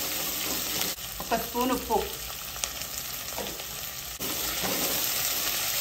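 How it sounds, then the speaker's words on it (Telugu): Chopped onions fry and sizzle in a pan for cashew upma, a steady close crackle with stirring scrapes, while someone speaks briefly over the cooking. "ఉల్లిపాయలు కూడా కొద్దిగా ఒక 2 మినిట్స్ వేపుదాం"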